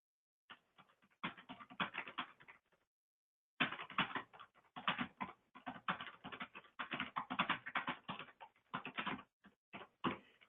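Computer keyboard typing on a practice-management software form, close and crisp, in bursts of rapid keystrokes with a brief pause near the start and scattered final taps, no voices.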